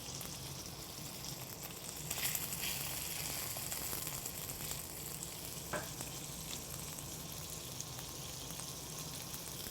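Spanish mackerel fillet, marinated in yuan sauce, fries skin side down in a pan with a steady, fine crackling sizzle and a few sharper pops, continuous and fairly soft throughout.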